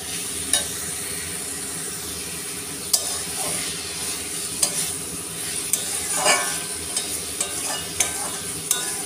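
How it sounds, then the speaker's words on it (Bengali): Ground spices frying in hot oil are stirred steadily for a Bengali fish curry with katla, cauliflower and potato, giving a continuous close sizzle broken by scattered scraping clicks from the spoon. "মশলাগুলো ভাজা ভাজা হয়ে গিয়ে মশলার থেকে তেল ছাড়তে শুরু করেছে।"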